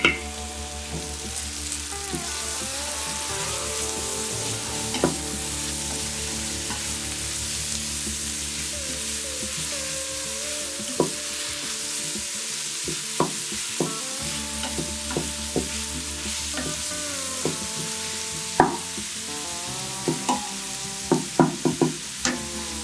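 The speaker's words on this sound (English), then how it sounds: "Continue sauteing for another couple of minutes just until the garlic becomes fragrant" Minced garlic sautés in bacon grease inside an Instant Pot, giving a steady soft sizzle with repeated spoon scrapes and clicks against the pot, and a faint hum beneath.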